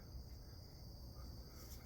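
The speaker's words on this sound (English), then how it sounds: "You hear that? It's a wasp. Or a bee or something." An insect buzz, a wasp or bee hovering near a light, holds as a steady, continuous drone close by with no talk over it.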